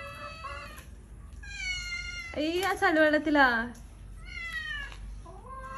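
A house cat meows repeatedly, with several drawn-out, rising cries and one louder caterwaul in the middle, close by and partly overlapped by people talking.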